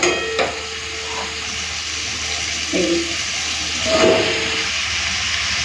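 Prawns already fried red sizzle steadily in a pan as chopped ridge gourd and potato are tipped in, with a few soft clunks and a brief burst of louder hissing as the vegetables land.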